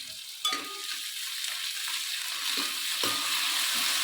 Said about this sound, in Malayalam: ഇനി ഇത് നന്നായി ഒന്ന് ഇളക്കി കൊടുക്കുക